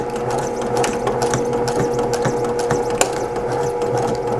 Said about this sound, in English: I'm going to start off very slowly, and then I'm going to back stitch a couple of times.